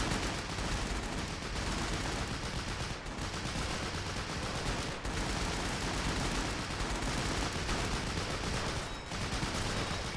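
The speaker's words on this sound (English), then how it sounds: "they also have a 30 caliber machine gun supporting" Continuous .30 caliber machine gun fire during a US Marine beach landing in Men of War Assault, a dense steady clatter of rounds and distant battle noise with no pauses, fairly quiet overall.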